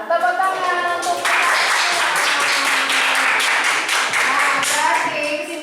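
A classroom of students bursts into applause after a voice briefly speaks, many hands clapping loudly and steadily for several seconds before tapering off.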